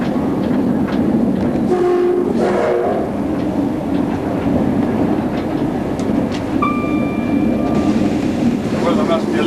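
A Leeds Pullman train runs at speed, a constant loud rumble and rail noise with short horn-like tones, heard from on board under men's conversation.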